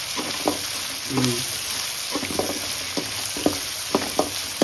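A spicy fish curry is stirred in a pot to keep it from burning, with close scraping and clinking strokes at irregular intervals over a faint, steady sizzle.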